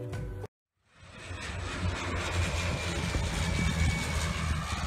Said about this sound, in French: et ses avions qui atterrissent